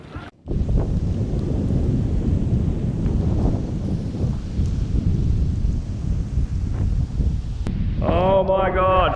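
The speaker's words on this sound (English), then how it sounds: "That storm has definitely set in now." A tropical thunderstorm rolls in over an island in Indonesia, with loud, steady wind buffeting the microphone and heavy rain roaring close. Deep rumbling sits underneath, and a brief tonal sound rises near the end.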